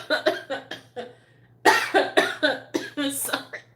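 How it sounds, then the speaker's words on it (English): Harsh coughs in quick bursts close by, mixed with voices and laughter. "I had to cough."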